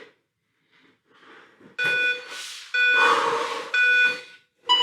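Workout timer beeping during a plank exercise class: a run of three sustained, bright electronic tones in quick succession, with a fourth starting at the end, after a quieter stretch with no talking.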